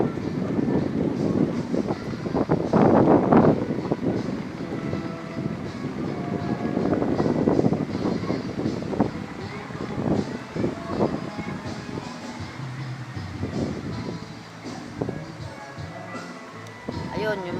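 Strong wind gusts by the sea at high tide, with spray reaching the shore, roar and buffet against the microphone in uneven surges, while people talk throughout.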